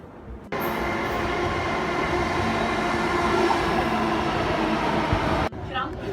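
A train rumbles loud and steady at Krantiveera Sangolli Rayanna railway station, a continuous roar of wheels and carriages that starts and stops abruptly.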